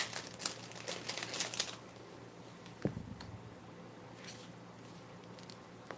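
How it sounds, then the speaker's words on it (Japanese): A plastic bag crinkles and rustles as embroidery thread is unpacked, with a dense burst of crackling at the start, a brief sharp crinkle after a pause and then soft sparse rustles, all quiet and close. "ちょっとガサガサ音がねするかもしれません。 今袋から出しています。"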